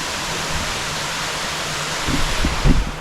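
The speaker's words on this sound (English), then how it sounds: "Beautiful little waterfall." A small waterfall on Koh Phangan, Thailand, pours in a steady, close rush of water, with a few brief low knocks near the end.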